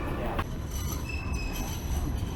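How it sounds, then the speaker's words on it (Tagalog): Train wheels squealing on rails in Sydney, Australia, a steady, loud, high-pitched screech riding over a rumbling, rolling train, continuous throughout with no talking. "Ganda ng tren."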